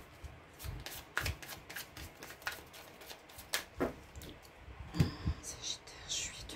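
A deck of tarot cards being cut and shuffled by hand, heard up close as soft, quiet riffling and slapping bursts with papery rustles between them.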